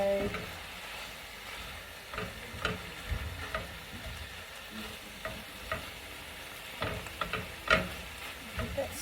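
Steak chunks sizzle in a skillet alongside cauliflower and spinach, a steady close frying hiss broken by scraping stirs and clinks of the pan at irregular moments.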